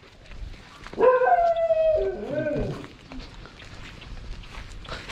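A dog on a rural property gives one drawn-out, wavering howl lasting about two seconds, fairly close and clear, then fades back into quiet outdoor background noise.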